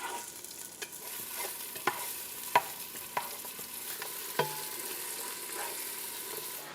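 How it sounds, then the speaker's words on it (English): Onions frying in a pan for a sunset soup, a steady soft sizzle with occasional sharp clinks and scrapes of stirring, close and alone without talk. "now we're gonna put all the onions, and look, do you hear that? You want it to do that"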